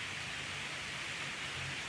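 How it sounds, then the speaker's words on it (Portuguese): Steady rain falls on an afternoon outdoors, a dense continuous hiss of drops with no breaks, moderately loud and even throughout, with no speech. "Escuta o barulhinho da chuva."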